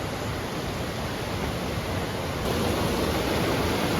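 Steady, broadband rush of Baxter Creek flowing in the Sierra Nevada, loud and close, with an even, unbroken texture that swells slightly louder partway through.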